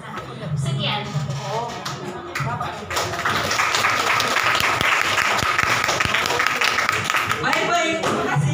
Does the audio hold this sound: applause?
yes